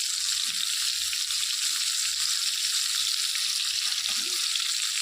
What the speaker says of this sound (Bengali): বেগুনগুলো এক পাশ ভাজা হয়ে গেছে, তো আরেক পাশে উল্টে দিয়েছি